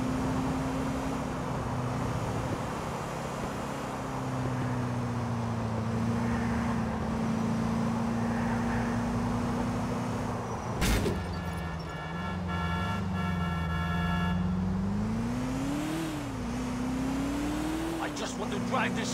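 Car chase in GTA 4, with a steady engine drone under continuous shouted game dialogue, a sudden impact near the middle and rising revs toward the end.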